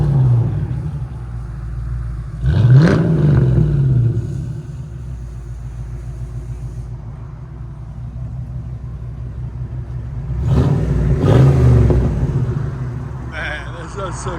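Exhaust of a 1990 Ford Mustang GT with a 5.0L V8, SLP Loudmouths and high-flow cats, idling with a deep rumble and two sharp throttle blips a few seconds apart, close and loud, with people talking over it.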